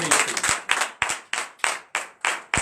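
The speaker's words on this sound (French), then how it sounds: "Nous donnons l'acclamation" A church congregation claps in rhythmic acclamation during a night deliverance prayer service: bursts of handclaps in a steady pulse, punctuated by sharp low thumps, close and loud.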